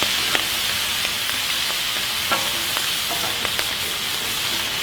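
Shrimp sizzling steadily in a hot pan with salt and pepper for shrimp scampi, a loud continuous close frying hiss with occasional faint pops and ticks, no talk.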